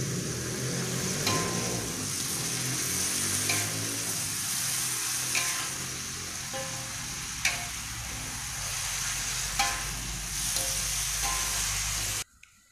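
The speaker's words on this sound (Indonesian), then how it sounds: "Masukkan ikan nila yang sudah digoreng, sambil diaduk rata." Fried tilapia is stirred into sambal in a hot pan: food sizzles steadily while a spatula scrapes and clinks against it now and then, ending in a brief pause and two clinks.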